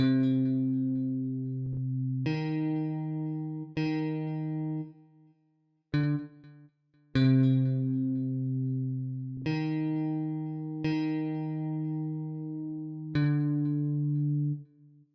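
A simple synthesized melody plays in clean, evenly spaced notes, a few pausing briefly, with no voices.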